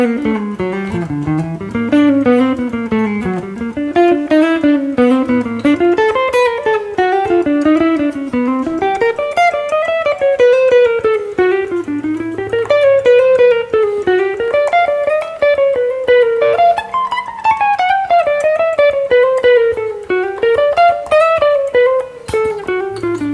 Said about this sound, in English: you can play the chromatic bebop exercise through 2 octaves to the top of the neck